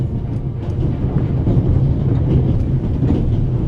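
A moving train from the video game The Raven Remastered rumbles as a steady, dense low roll with faint rhythmic clatter, continuous and fairly loud throughout, with no voices.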